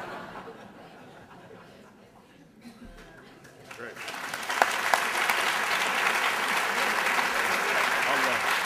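An audience at a Harvard talk on Europe in the world breaks into applause, starting thin and growing into loud, sustained clapping from a full room, with some chuckles mixed in.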